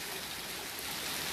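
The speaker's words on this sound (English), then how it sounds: "It's pouring down everywhere, all the way from the sky" Heavy rain pours down steadily on a stormy day, a dense, even hiss of falling water with no breaks and no voices.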